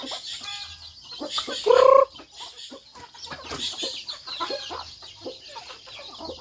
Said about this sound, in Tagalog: Aming kunting manok.